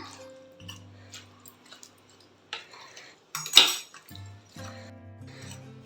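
A spoon stirs a semi-gravy of mutton chops in a cooking pot, giving sparse metallic scrapes and clinks with one sharp louder clank partway through, close and otherwise quiet.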